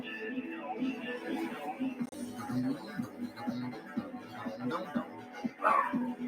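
A dog barks at home in short, irregular yips and barks, mixed with other nearby household noise and no clear speech.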